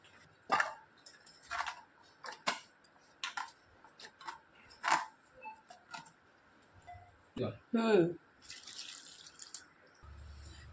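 Water splashes and drips in scattered bursts as colocasia stems are dropped into a bowl of water, with quiet stretches in between.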